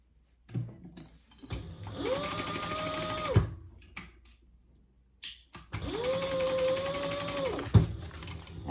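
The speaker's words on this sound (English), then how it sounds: "let's sew that together at the seam allowance in the pattern" A sewing machine stitches a seam in aqua and navy fabric for a clutch organizer wallet, running in two steady motorized bursts of about two seconds each with a brief pause between.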